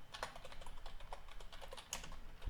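Typing on a computer keyboard, steady rapid clicking of keys at a quiet level, with a couple of slightly louder taps and no speech.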